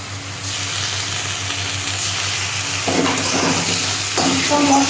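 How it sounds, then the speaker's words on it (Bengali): Tomato puree poured into a pan of sizzling spices and meat masala, a loud, steady hiss and frying crackle close up, swelling as the puree hits the hot oil. "এটাও আমি কষিয়ে নেব পর দিচ্ছি আমি টমেটো পিউরিটা"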